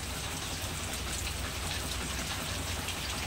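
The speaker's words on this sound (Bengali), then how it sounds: "প্রচণ্ড বৃষ্টি পড়ছে, প্রচণ্ড" Heavy rain pours during Cyclone Remal, a dense, loud, unbroken roar of drops drumming on surfaces close by, with no voices.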